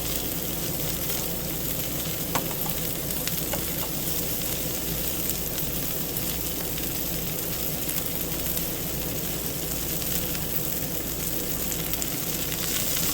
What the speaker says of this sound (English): Then I'm just going to throw the onions right on top.